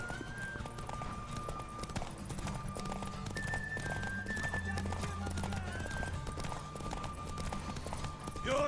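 Horse hooves clip-clop steadily with an occasional whinny in The Witcher 3, set against a continuous game soundtrack with low drones and tonal lines, no speech.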